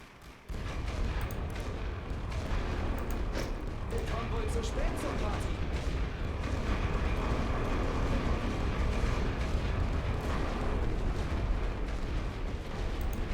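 A continuous barrage of World War I artillery fire in the strategy game The Great War: Western Front, with dense overlapping booms and rumble, while someone talks over it throughout.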